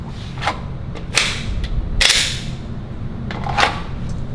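Three two-handed pistol rounds cracked off at an indoor range, with sharp, loud, echoing reports spaced unevenly about a second apart and lighter clatter in between.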